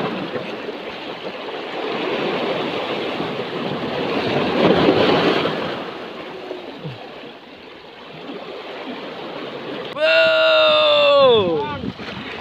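Big ocean waves roar in a steady, broad rush that swells midway and eases, with a voice rising briefly near the end.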